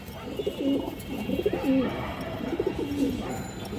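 Pigeons cooing close by, large fancy breeds including a big hen, with repeated soft throaty coo phrases in a steady rhythm over a low background rumble.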